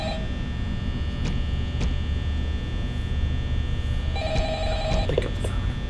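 A telephone in Five Nights at Freddy's rings in two short bursts of trilling tones, separated by a few seconds of quiet, heard over a steady electrical hum with no talk.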